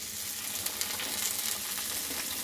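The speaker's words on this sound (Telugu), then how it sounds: "తాలింపు వేగాక ఇప్పుడు మనం బెండకాయ ముక్కలను కూడా వేసుకోవాలి." Okra pieces sizzle and crackle in hot tempering oil in a pan, a close, steady frying hiss with small pops throughout and no talking.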